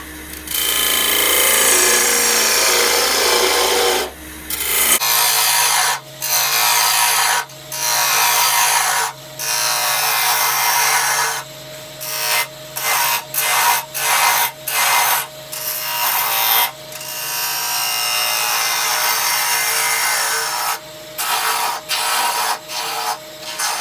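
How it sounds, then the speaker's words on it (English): A bowl gouge roughs out a wooden ring holder blank spinning on a lathe at about 1600 RPM, giving a loud, continuous scraping rasp broken into repeated bursts by brief pauses between cuts. "Now we're going to rough out the general shape with the bowl gouge"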